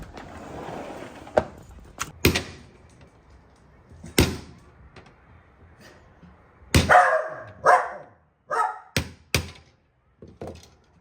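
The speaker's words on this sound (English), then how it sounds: "And I'm gonna knock these out not on the granite countertop" Metal knockouts on an electrical mounting base for an emergency light are struck out indoors, away from a granite countertop. Sharp, separate knocks and clanks come at irregular intervals, some in quick pairs, with quiet gaps between them.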